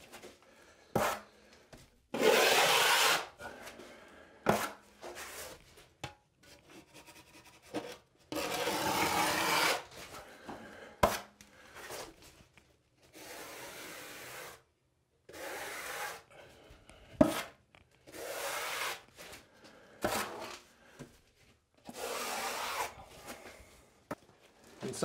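A trowel scrapes and presses Kerdi band corners into thinset during shower prep, giving repeated gritty rubbing strokes in uneven bursts with sharp taps between them, close and fairly quiet, with no voices.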